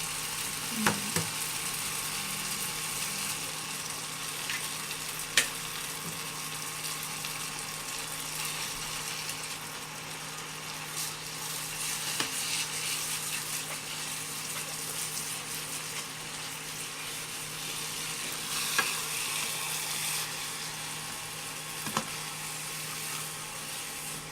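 Korat rice noodles stir-fried in oil in a pan give a steady, low sizzle that runs throughout, with occasional sharp clicks and scrapes from stirring, fairly close and with no talking.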